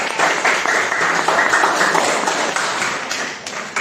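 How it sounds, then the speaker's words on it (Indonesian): A classroom of students claps for a student group after its presentation, a dense, steady patter of many hands that carries evenly for several seconds before easing slightly at the end. "tepuk tangan untuk kelompok"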